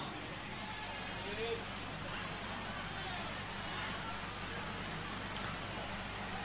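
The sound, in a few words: rain falling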